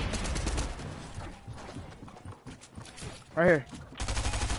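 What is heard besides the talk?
SMG gunfire in the video game Fortnite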